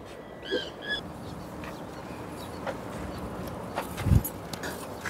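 A bird gives a few short, high calls, spaced apart against quiet outdoor background noise, with one louder low thump.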